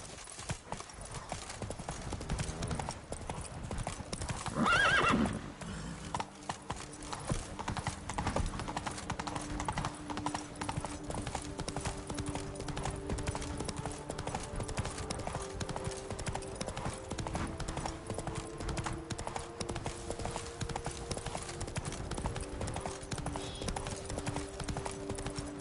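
Roach, a horse in The Witcher 3, gallops for a long stretch with a brisk, continuous clip-clop of hooves up close. Game music and ambience run underneath, with a brief louder burst near the start.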